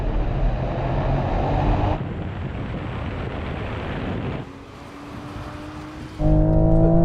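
A 2008-era drag race between a 300 hp Toyota GR Yaris and a Toyota Supra 3.0, with loud, sustained engine roar and wind rush, a drop in intensity midway, then a sharp surge of revving at the end, no talk.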